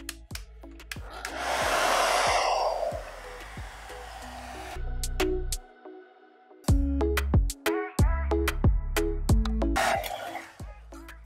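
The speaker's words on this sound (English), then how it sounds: "I will use a hairdryer to demonstrate you what will happen if you expose it to heat of about 25 to 30 degrees" A handheld hair dryer blowing hot air onto a black surface, a loud steady whoosh for several seconds, then sporadic clicks and knocks of handling and another short burst of blowing near the end.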